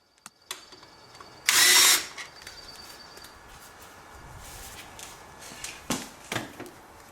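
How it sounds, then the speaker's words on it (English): An electric impact wrench loosens wheel nuts on a BMW K1600 motorcycle in a brief, loud, close burst, followed by quieter clicks and knocks of handling with no talk. "I use my electric wrench to loosen the nuts all the way"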